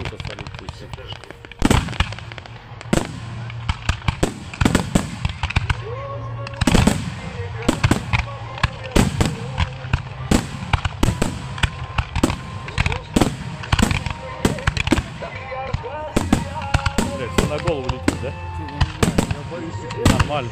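Fireworks explode in rapid crackling bursts and loud bangs at a fireworks festival in Suzdal, some close and some farther off, with people talking now and then underneath.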